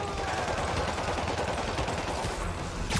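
Dense, continuous gunfire rattles from the Spider-Man Remastered video game, a loud sustained barrage of rapid shots filling the whole stretch, with a sharper burst near the end and no talking.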